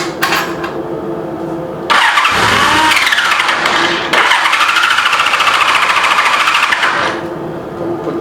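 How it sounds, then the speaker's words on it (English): A 1985 Honda Goldwing GL1200 motorcycle engine cranks after a carburetor rebuild, with a loud, close starter whir in two long bursts separated by a short pause, and no catch. "So let's just see how it will crank."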